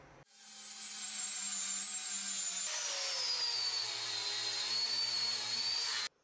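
A power tool runs steadily while polishing metal, producing a continuous high-pitched whine that shifts slightly in tone partway through and then cuts off.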